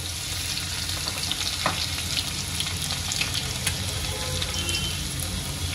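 Cumin, crushed garlic and curry leaves sizzle in hot oil after mustard seeds have crackled, a steady close frying hiss with occasional sharper pops and faint stirring.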